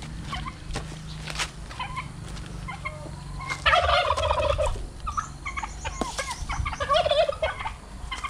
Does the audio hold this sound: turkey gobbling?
yes